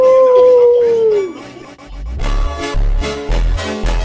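A person imitates a wolf howl, one long sustained wavering vocal tone that slides downward and fades, followed by thumping bass-heavy music with beats.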